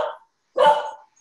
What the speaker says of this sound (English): The dog. We love dogs.